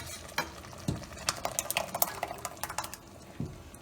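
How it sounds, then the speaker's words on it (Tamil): Curd is stirred into a boiling Tamil kuzhambu in a metal pot, with a spoon scraping and clinking against the vessel in quick strokes over a soft bubbling simmer, close and fairly quiet. "இதில் இந்த தயிரை ஆட் பண்ணிடலாம்."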